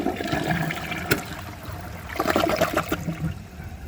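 A Project Source Pro dual flush toilet flushes a bowl holding ash, giving a steady close rush and swirl of water with gurgling throughout.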